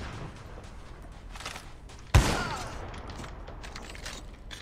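A single sharp gunshot in the video game COD Mobile Battle Royale bursts out mid-clip over a low background rumble, then decays quickly; no one speaks.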